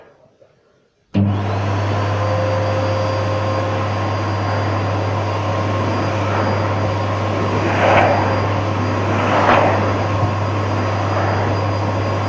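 A Henry Hoover vacuum cleaner switches on after a second of quiet and runs at a loud, steady drone with a strong low hum, close by and alone.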